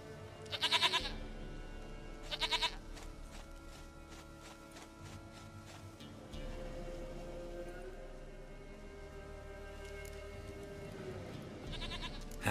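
Goat bleating in The Witcher 3: two loud, wavering bleats close by near the start, then a third toward the end, over low game ambience and music.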